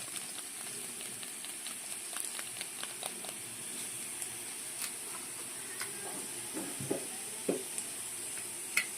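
Garlic cloves and chili flakes fry in a pan for a spicy garlic Maggi, giving a steady close hiss of sizzling oil broken by scattered light spoon scrapes and clicks, with no talking.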